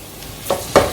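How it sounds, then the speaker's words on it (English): Onions fry in a pot with a soft sizzle, interrupted by two quick stirring scrapes less than a second apart, close and moderately loud. "I just added my onions, and I'm going to fry this for a minute"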